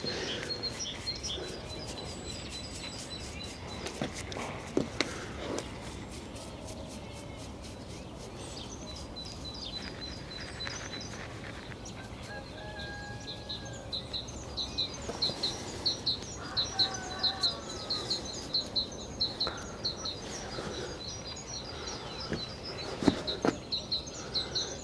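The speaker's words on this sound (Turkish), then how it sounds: "Ya kuş sesleri harika ya." Birds sing and chirp around a walnut orchard in a mountain village, with repeated bright calls and twittering over a quiet outdoor background; the song grows busier in the second half, heard alone without speech.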